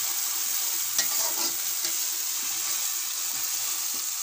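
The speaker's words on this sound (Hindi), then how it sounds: "इसको हल्का फ्राई होने देंगे, ज़्यादा जलना नहीं चाहिए।" Masala for aloo paneer matar frying in a pan, a steady close hiss of sizzling oil with light stirring scrapes throughout, no voices.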